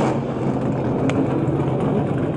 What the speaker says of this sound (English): And the engines come to life.